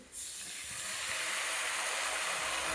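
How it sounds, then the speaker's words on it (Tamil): Cornflour slurry hits a hot pan of Chicken Manchurian, setting off a sudden loud hiss and sizzle that holds steady for a few seconds, close and without speech. "கரைச்சி வச்சுருக்க கார்ன்ஃப்ளவர் மாவு ஊற்றிக்கலாம்."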